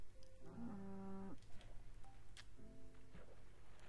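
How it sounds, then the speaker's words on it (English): A cow moos in a farming video game, with two drawn-out tonal lowing calls over a steady background hum and faint clicks, fairly quiet and with no talking. "Wait, I'm gonna try and get that other cow in the farm."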